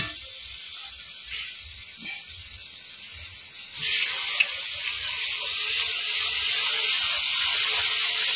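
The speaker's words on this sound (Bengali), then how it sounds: "এবার আদা রসুন বাটা দিয়ে দেওয়া হবে।" Ginger garlic paste sizzles steadily in hot oil in a pan of fried onions and tomatoes, a broad hiss that thickens and grows louder toward the end, with no talking.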